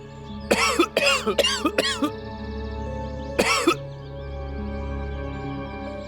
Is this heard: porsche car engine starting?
no